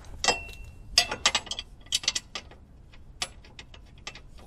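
A ratchet works bolts tight while a CUSCO front power brace goes onto a Subaru WRX STI (VAB), giving short bursts of metallic clicking and clinking at close range, separated by brief pauses.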